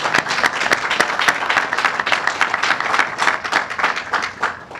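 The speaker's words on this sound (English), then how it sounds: "I think that deserves a round of applause" An audience applauds, many hands clapping in a dense, steady patter that holds at an even level and begins to fade slightly at the end.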